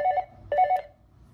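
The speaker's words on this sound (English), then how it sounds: "I got a call on the hotel room phone." A hotel room telephone sounds in two short bursts of electronic warbling tone separated by a brief pause, close and clear in a quiet room.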